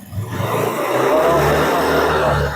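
A motorcycle engine in a vocational school workshop, during charging-system maintenance, revs up to about 5,000 RPM and holds, a loud close steady roar after a brief rise.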